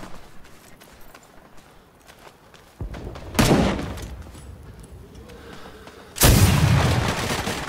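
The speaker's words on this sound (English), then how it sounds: "Heavy artillery firing when ready." Heavy artillery in the Vietnam war game Rising Storm 2 lands in two loud booming impacts a few seconds apart, each with a long rumbling tail, over quieter background battle noise.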